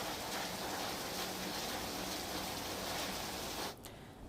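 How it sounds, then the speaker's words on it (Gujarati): Heavy monsoon rain pouring down in Malpur, Aravalli, north Gujarat: a steady, dense broadband hiss that stays even and close throughout, easing abruptly near the end. "આહલાદક એવું વાતાવરણ સર્જાયું છે અને સાથે જ આ વાવણી લાયક વરસાદ પડી રહ્યો છે"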